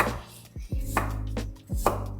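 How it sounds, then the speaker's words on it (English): A knife chops through sweet potato on a cutting board, four or five firm, close thuds at an uneven pace with brief scraping between strokes, no voices. "We are going to start by chopping up some sweet potato."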